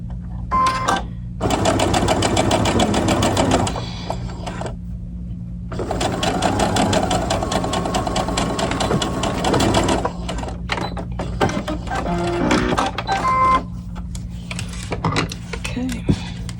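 A sewing machine stitches a seam on a fancy dress for an 18-inch doll, running in two long loud bursts with a short pause between, then quieter clicks and handling sounds; a voice talks over parts of it.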